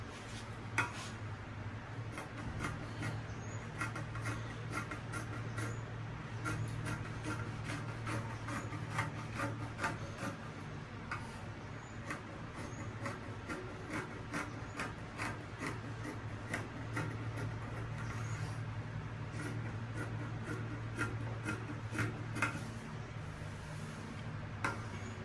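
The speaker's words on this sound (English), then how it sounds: "I just placed the first sleeve on this piece of fabric and I want to cut the second sleeve." Fabric being cut for a second sleeve during a two-in-one sleeve sewing project, giving a steady run of faint rubbing, snipping and rasping sounds with small ticks over a low background hum, no talking.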